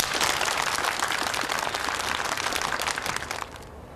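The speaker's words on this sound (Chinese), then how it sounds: "下面，用热烈的掌声，欢迎陆总、" An audience applauds in a hall to welcome speakers at a paratrooper unit's expansion ceremony, with dense, steady clapping that fades toward the end.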